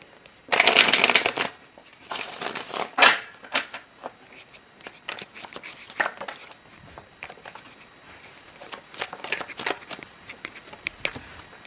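Crisp, papery riffling and slapping of tarot cards being shuffled close by, in irregular bursts with brief pauses, loudest near the start.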